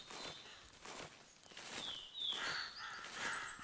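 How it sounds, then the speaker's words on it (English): Crows caw repeatedly in theHunter Classic hunting game, loud harsh calls overlapping one another in an outdoor scene, with faint rustling and footstep-like sounds underneath and no talking. "These crows can be a bit annoying. They're really loud."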